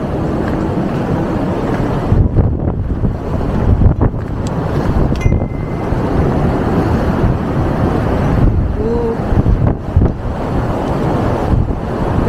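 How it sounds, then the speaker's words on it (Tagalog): Strong wind buffets the microphone in a steady, heavy roar that runs the whole time, with brief gusts and faint background noises, no voices, on a snowy day in South Korea. "Lakas ng hangin."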